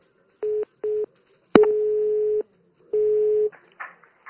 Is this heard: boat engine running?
no